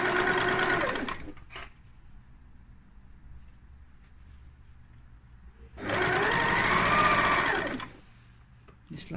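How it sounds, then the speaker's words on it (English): Sewing machine stitching a line down fabric edging while making knickers, two bursts of steady fast motor whirring, about a second at the start and two seconds later, with quiet pauses between. "do a line of stitching all the way down."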